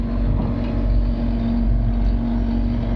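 Excavator engine idling low and steady while pulling out a tree stump with a root ripper attachment, a constant close diesel drone with a strong hum and no rise in revs.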